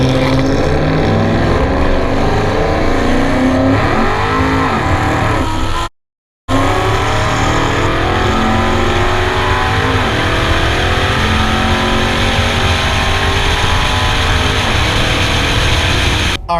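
A race car runs hard on a track, its engine roaring loud and continuous with rising pitch sweeps as it accelerates and shifts. A brief dropout breaks the sound, and then the engine noise carries on.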